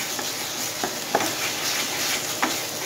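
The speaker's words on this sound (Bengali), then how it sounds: "আগে আমি একটু লো থেকে মিডিয়াম হিটে রেখে একটু ভাজা ভাজা করে নেব, আর এই টাইমে কিন্তু মাঝে মাঝে নাড়াচাড়া করে দিতে হবে" Spring onion paste frying over low to medium heat in a pan, with a steady soft sizzle and occasional scraping stirs that come through as short, brighter scuffs.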